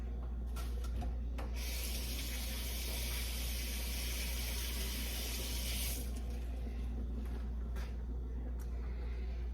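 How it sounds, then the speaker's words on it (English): Hands rinsed under a kitchen tap while baking peanut butter cookies: a steady hiss of running water lasting about four seconds, close and even, over a constant low hum. "And I want to rinse my hands."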